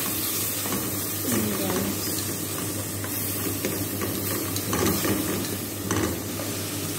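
String beans with bird's-eye chili sautéing in a pan, a steady close sizzle and hiss under occasional scraping stirs, with faint voice in the background.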